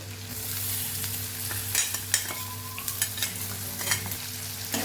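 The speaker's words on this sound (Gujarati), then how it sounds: "અહીંયા આપણે ડુંગળી પણ ઉમેરી દઈશું" Onions sauté in oil in a pan for a Kathiyawadi-style sev tomato curry, with a continuous close sizzle and intermittent spoon scrapes and stirring clatter.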